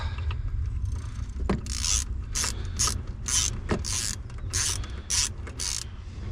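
A ratchet socket wrench with a 17 mm socket turns a nut on a car repair job, giving about a dozen quick clicking ratchet strokes in an uneven rhythm over a low steady hum.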